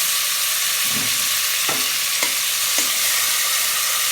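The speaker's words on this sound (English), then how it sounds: "we'll allow these to saute for a bit" Green peas for Bajan peas and rice sizzle loudly and steadily in a pot, with a few soft knocks of stirring over the continuous hiss.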